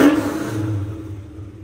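A 1970 Chevrolet Chevelle with a B&M shifter rumbles through a short, loud rev that settles into a steady idle, heard up close with no talking.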